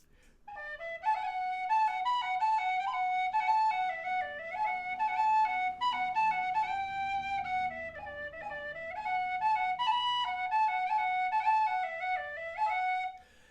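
A low D tin whistle, low and breathy, plays a lively reel alone, with quick runs and ornamented notes in a steady dance rhythm, close and clear.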